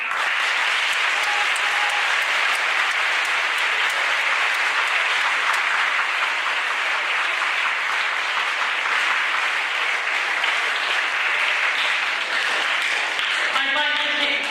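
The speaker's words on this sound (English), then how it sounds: "I would like to give our students another round of applause." An audience at a 2014 school Veterans Day assembly gives students a loud, sustained round of applause that fills the room without pause for about fourteen seconds.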